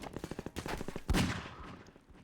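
Gunfire in the video game Half-Life 2, a quick run of rapid shots followed by one louder blast that rings out and fades, up close.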